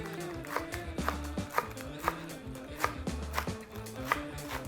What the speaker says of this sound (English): So we're gonna slice it, chop it, get only the root of the lettuce, the hard part